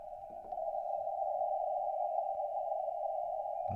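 A continuous steady CW carrier tone on the 31 meter shortwave band, received on an SDRplay RSPdx with a loop antenna, holds over faint static and brief crackles, with a burst of noise at the end.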